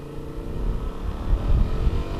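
A 2024 Honda Transalp parallel-twin motorcycle engine revs up and climbs steadily, a throaty low rumble growing louder over a couple of seconds.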